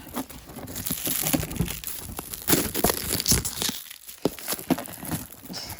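Plastic wrapping torn off a Deal or No Deal board game box: close, continuous crinkling and tearing with sharp crackles and short pauses, no talking.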